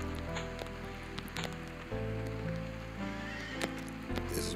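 Horses neigh and whinny in Survival Craft, a few calls sounding over a steady hum with light rain-like noise in the background, with no one talking.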